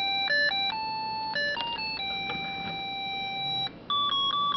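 A UM66 melody chip wired with a 4700 microfarad capacitor plays Für Elise as thin, pure electronic beeping notes stepping up and down in a clear sequence, close and steady over a faint hiss, with no talking.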